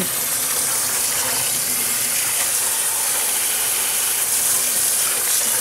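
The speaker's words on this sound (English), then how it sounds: "I'm going to continue rinsing this out as the hot water comes in." Hot water rushes continuously from a tap into a sink, a dense hissing splash that stays even and close throughout.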